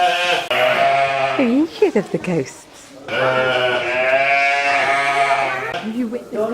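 A dark-faced sheep bleats loudly at close range in two long, quavering calls, while a person talks alongside it.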